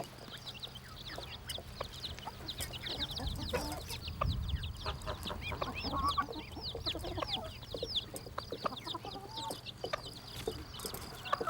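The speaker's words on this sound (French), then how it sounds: "Lorsqu'elles sont en liberté dans la cour de la ferme, les poules grattent le sol." Free-ranging farmyard hens cluck in a steady chorus alongside small chick peeps, with light scratching at the ground and occasional louder clucks close by, continuous throughout with no voices.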